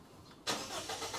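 A 2005 Toyota Kijang Innova G engine starts: quiet for a moment, then a sudden catch into a broadband roar that settles into a steady running rumble, close by.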